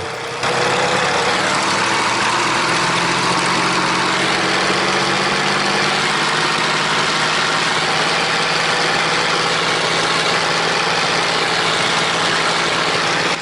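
A Curtiss P-40N Kittyhawk warbird engine is run up to 2200 RPM, a loud, steady, close-up roar with a low droning tone that holds without pause throughout.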